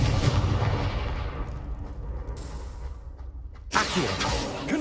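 A Confringo blasting curse in Hogwarts Legacy erupts in a loud, booming explosion that decays into a rumbling tail, followed by a second sharp blast near the end of the clip.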